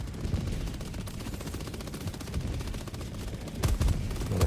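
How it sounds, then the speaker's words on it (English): Machine gun firing in Helldivers 2, a sustained rapid stream of shots with a steady dense rhythm, fairly loud and continuous, with a heavier burst near the end. "control the recoil on the machine gun and just unload on them"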